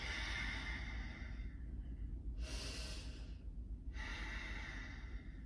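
Slow deep breaths during a hip-opening yoga stretch after running, with a long broadband inhale or exhale standing out in the middle over a steady low background hum, close and fairly quiet.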